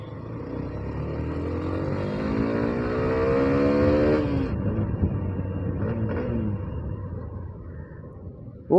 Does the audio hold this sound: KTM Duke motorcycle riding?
yes